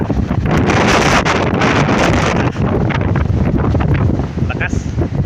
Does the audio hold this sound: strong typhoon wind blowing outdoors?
yes